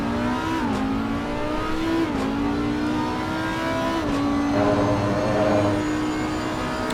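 An Audi and a McLaren race car battling at Circuit of the Americas, loud engines revving with repeated gear-shift drops and pitch changes, one car passing close, with no talking.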